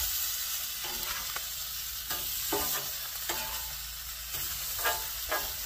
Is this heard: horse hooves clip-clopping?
no